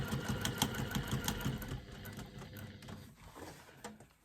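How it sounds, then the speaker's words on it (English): Sewing machine running steadily as it stitches along the bottom of a wallet pocket, a close, even mechanical whir that grows sparser and quieter toward the end. "I'm going to stitch along the bottom of my pocket"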